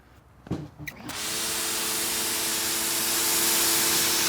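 A Ryobi pressure washer fitted with a 4.0 nozzle starts with a couple of clicks, then sends out a steady, loud, hissing spray with an underlying pump whine that holds constant to the end.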